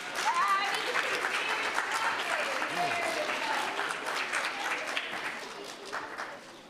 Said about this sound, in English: let's get the clapping going